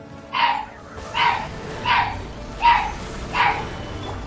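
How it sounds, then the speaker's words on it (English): A dog barks five times in a steady, evenly spaced rhythm, each bark sharp and moderately close, heard in the room behind a Genshin Impact gaming session. "Sorry for the dog."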